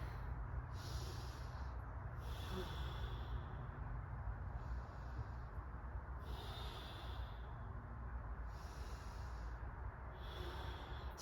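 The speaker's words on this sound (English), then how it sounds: "Deep breath in. Let it out." Deep breaths during a medicine-ball workout, a slow regular rhythm of about six hissing inhales and exhales, close to the mic over a low background hum.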